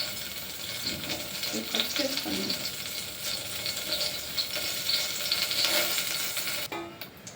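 Mustard seeds crackle and splutter in hot oil in a pan for sambar rice, a dense continuous popping sizzle held close and loud, ending abruptly.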